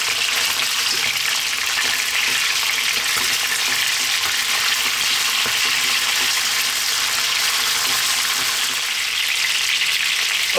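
Chicken pieces fry in a pan over medium heat, a loud, dense, continuous sizzle that holds steady throughout with no talking.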